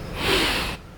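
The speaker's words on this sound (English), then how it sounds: "to take a quick sniff through the nose" A single quick, forceful sniff in through the nose during choir breathing practice, close and loud, lasting under a second before cutting off.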